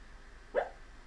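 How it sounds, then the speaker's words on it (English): A dreaming dog somewhere in the room lets out a single short, muffled yip or whimper in the background, faint and brief against a quiet room hum. "The dog is dreaming in the background."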